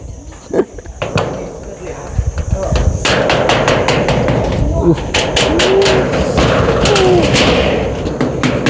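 Hammering while dismantling a house roof: sharp repeated hammer blows, irregular and fairly close, come in bursts, with people talking and outdoor background noise.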